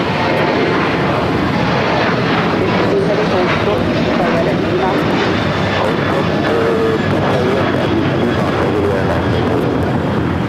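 Airplane noise at Los Angeles LAX airport, a loud, steady broadband engine roar that persists unbroken throughout, with radio voices speaking over it.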